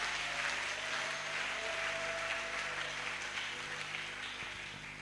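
A church congregation clapping for the Lord during a worship service, a steady dense wash of many hands heard from a distance in a reverberant hall, moderately quiet with a low hum beneath.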